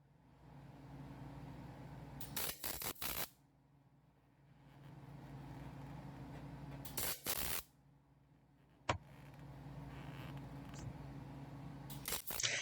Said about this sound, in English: We're going to get the plug welds installed.